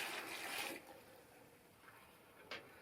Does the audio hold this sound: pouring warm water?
yes